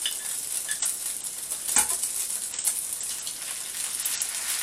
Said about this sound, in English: just throw in the chili con carne, and then let it simmer